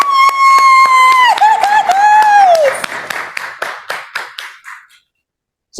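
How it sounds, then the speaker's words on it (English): Scattered hand clapping from a small Toastmasters open-house audience, heard after a sustained voiced tone. The claps come as a short run of sharp, separate hits that thin out and stop. "ladies and gentlemen, I have applause for her"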